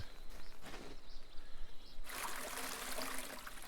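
Water pouring into a watering can in a farming video game: after a few soft taps, a steady bright rushing trickle starts about halfway through and runs continuously to the end, fairly loud and close.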